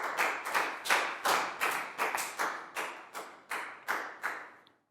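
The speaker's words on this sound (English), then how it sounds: "a big round of applause for Lakgao" A Year 4 maths class claps for a student, a short run of about a dozen fairly loud, roughly even group claps close by, with no talk.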